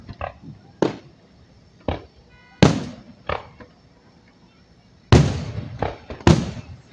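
Fireworks shells burst at a July 4th 2024 show in Pflugerville, Texas, a series of sharp booms with trailing crackles, spaced apart and then coming faster, loud and fairly near.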